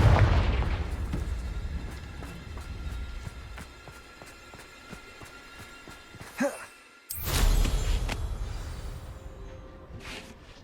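Confringo explosive spell cast in Hogwarts Legacy: a sharp burst of fiery blast erupts after quieter game ambience, followed by a loud booming wash that slowly fades.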